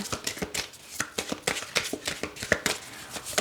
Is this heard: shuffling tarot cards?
yes